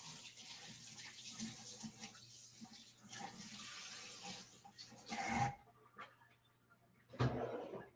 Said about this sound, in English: just rinse off your carrot and your celery